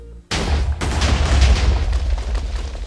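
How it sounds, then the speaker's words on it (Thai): A sudden loud Minecraft explosion cuts in after a brief quiet, followed by a deep, rumbling roar that slowly fades. "โอ้ my god ระเบิดครั้งยิ่งใหญ่"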